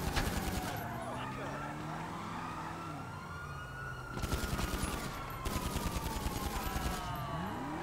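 Rapid bursts of gunfire in Grand Theft Auto Online ring out loud over wailing police sirens and car engine noise during a street chase.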